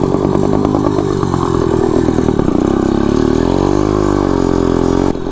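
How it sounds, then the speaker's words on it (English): A four-stroke motorized bicycle engine revs hard at full throttle, a loud, steady buzzing drone that shifts pitch partway through as the speed changes, with no talking over it. "this motor four strokes quite a bit sometimes, especially when you're like full throttle"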